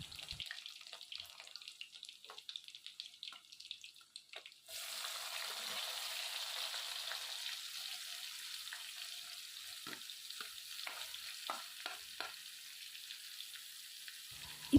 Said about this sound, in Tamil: ஸோ ஆனியன் நல்லா வதக்கிட்டே இருக்கணும்